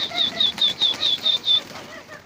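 Pigeons beat their wings on a rooftop in a rapid series of about eight close, loud flapping bursts, followed by softer flutters as the birds settle.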